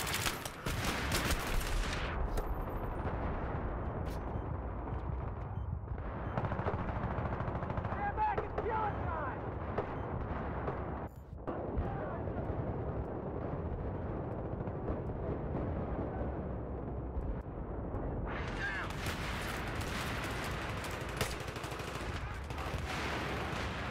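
Automatic weapons fire in Battlefield 3 multiplayer, loud bursts and sustained rattling with heavy booming underneath, continuing for the whole stretch with brief dips, amid battlefield noise and voices.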